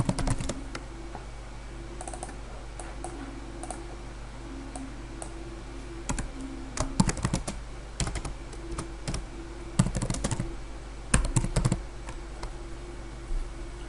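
Typing on a computer keyboard, faint keystrokes in scattered quick clusters over a steady background hum, with long quiet gaps between bursts.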